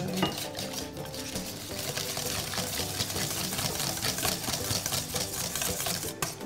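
Rapid, continuous clattering of a whisk beating choux pastry batter in a bowl, steady and close, with no talking.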